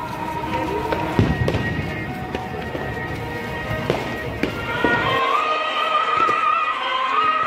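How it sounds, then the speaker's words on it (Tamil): Firecrackers bursting in a dense crowd at a church flag-hoisting festival for the Basilica of Our Lady of Good Health in Velankanni, with sharp cracks scattered irregularly through a steady roar of crowd noise and a sustained tonal hum. "ஏன்னா வெடியெலாம் வெடிச்சிட்ருக்காங்க."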